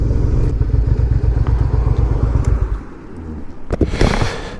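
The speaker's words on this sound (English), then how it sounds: "it's not the best thing for the engine to be under high load and at low RPMs" A second-generation Suzuki SV650S V-twin motorcycle engine lugs under load at low RPM, a loud throbbing pulsing rumble up close that eases off after a few seconds, followed by a couple of sharp clatters and wind noise.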